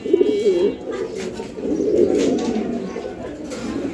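Caged pigeons coo close by in low, throaty, rolling bursts that continue almost without a break.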